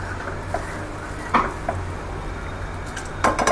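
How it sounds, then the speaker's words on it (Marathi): A spoon stirs samak rice kheer with milk in a pan, soft scraping under a faint simmer, with a few sharper clinks against the metal near the start and end, close and fairly quiet. "ह्याला ढवळून घेऊ व्यवस्थित"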